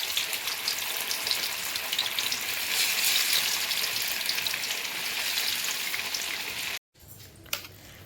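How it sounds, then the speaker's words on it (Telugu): Food frying in a small amount of oil in a pan, chapati-style, makes a continuous close, bright crackling sizzle that cuts out briefly near the end before a fainter sizzle resumes with a small clink. "ఇప్పుడు దీన్ని ఫ్రై చేస్తాం చూడండి."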